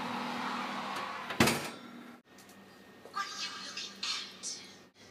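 A carrot cake tin slides into a home oven with a sharp metallic clunk, then the oven door thuds shut. Faint scraping and clatter follow nearby, and a fan or hum runs underneath.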